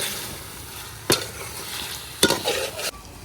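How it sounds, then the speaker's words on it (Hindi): Chicken pieces frying with browned potatoes in a pot for chicken pulao, a low steady sizzle broken by a few sharp scraping stirs of a spoon, close by with no talking. "अब चिकन की भी आलूओं के साथ ही भुनाई होगी"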